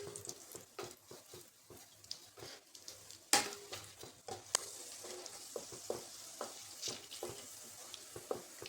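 Ingredients fry in a little oil for thin poha chivda, with a faint steady sizzle broken by frequent clicks and scrapes of a slotted spoon stirring, and a couple of louder clanks, close and fairly quiet.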